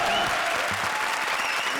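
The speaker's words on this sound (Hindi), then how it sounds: "जोरदार तालियां।" Loud audience applause fills a comedy stage show, a dense continuous clapping from a crowd throughout, with faint voices underneath.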